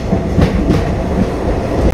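A train rolls into the platform at Kengeri railway station, a loud, steady rumble of wheels with clickety-clack beats heard from on board.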